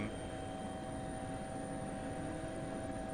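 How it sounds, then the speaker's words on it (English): A continuous, steady helicopter drone from the racing video game Dirt Rally 2.0, with a constant rotor hum and engine whine, unbroken throughout and fairly quiet. "like the helicopter noises."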